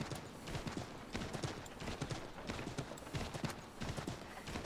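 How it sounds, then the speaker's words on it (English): Horse hooves clip-clop at a quick rhythmic gait while riding in the video game Assassin's Creed III Remastered, a steady stream of distinct hoof beats, fairly quiet, with no talking. "Might be because I'm riding a horse"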